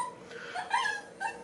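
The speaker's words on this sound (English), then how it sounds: "I'm sorry, that's my dog." A dog whimpers nearby in a few short, high, whiny bursts, fairly faint, with a brief pause between cries.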